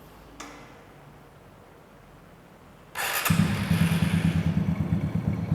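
After a click and a short quiet pause, a restored Honda Street Cub custom motorcycle engine cranks and catches, then settles into a loud, rhythmic idle up close.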